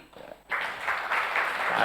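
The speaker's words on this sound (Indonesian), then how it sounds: "Kita beri aplaus kepada Bapak Arsanto Adi." Audience applause for Bapak Arsanto Adi, chair of Dana Wakaf IIBF, at a national discussion gathering, rising abruptly after a quiet moment and holding as steady clapping to the end.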